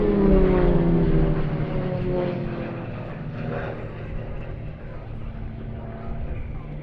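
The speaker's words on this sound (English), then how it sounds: "Stall turns being performed by the aircraft out to the right and left." Royal Jordanian Falcons aerobatic aircraft flying a display at the Duxford summer airshow, their steady propeller drone with falling-pitch harmonics sweeping past and slowly fading as they perform stall turns out to either side.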